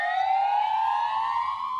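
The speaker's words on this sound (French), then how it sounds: "20h tapantes, les policiers Carolo allument gyrophares et sirènes." Police car siren sounding in tribute in a hospital parking lot, a loud, close, steady wailing tone rising slowly in pitch, alone without talk.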